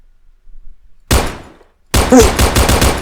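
Gunfire in the Roblox video game: one loud shot rings out and decays, then after a short gap a rapid, sustained machine-gun burst follows, close and sharp.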